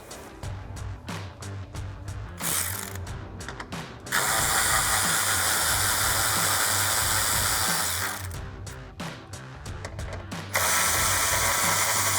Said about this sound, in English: So I'll use my 10mm socket on a ratchet and pull those out.